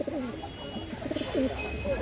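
Pigeons coo in short throaty calls, several overlapping near the microphone, with a voice talking over them.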